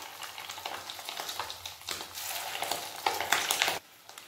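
Fish egg pakoras fry in hot oil, a close, dense crackling sizzle that rises and swells before cutting off abruptly near the end.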